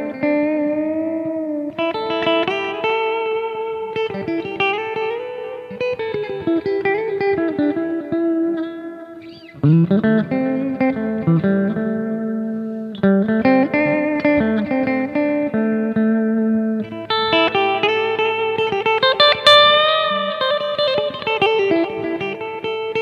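Clean electric guitar solo played through a Boss GT Pro effects processor with delay and reverb: loud, continuous melodic lines of sustained, ringing notes with trailing echoes, alone without talk.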